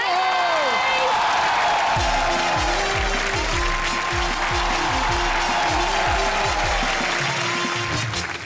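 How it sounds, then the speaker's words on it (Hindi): At a Christmas special comedy show, the audience claps loudly and steadily with a few whoops, while a pulsing music beat starts up beneath it and carries on to the end. "जोरदार तालियां हो जाए"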